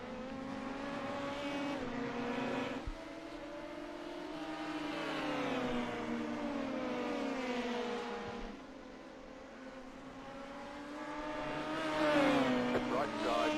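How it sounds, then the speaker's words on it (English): LMP1 prototype race car engines drone and rise in pitch in the iRacing game during a Le Mans 24-hour race, with sustained revving whine that swells and fades as cars pass, a couple of sharp shifts breaking the tone. "Another LMP1 behind you."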